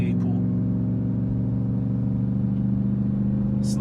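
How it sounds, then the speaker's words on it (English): An old Nissan V8 pulls steadily while driving, a deep, even rumble heard from inside the vehicle, constant and fairly close throughout the short stretch. "Listen to that V8 pull."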